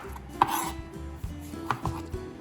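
Fresh tomatoes diced with a knife on a cutting board: a few close, uneven chops and taps, alone with no talk.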